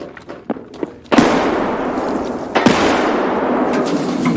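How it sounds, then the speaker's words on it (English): A grenade goes off in the shooter game Escape from Tarkov, a sudden loud blast after a few faint clicks, followed by a roaring wash of noise, then a second burst that keeps the din going to the end. "somebody throws a grenade in at the last minute, blows us all"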